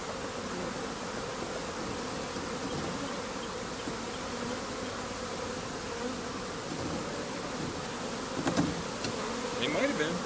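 A swarm of bees buzzes steadily around an apple tree outdoors, a dense, continuous drone that holds close and loud throughout, with a few sharper passes near the end.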